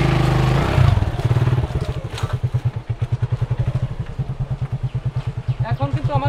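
A motorcycle engine runs as the bike is turned around, with a voice over the first moments, then a steady, rhythmic chugging idle that pulses evenly and close by for several seconds.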